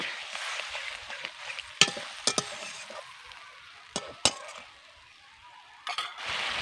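A spice paste for puti fish tel jhal is stirred and fried in a pan: a soft, steady sizzle broken by several sharp scrapes and clinks of a spoon against the pan, fairly quiet, no voices.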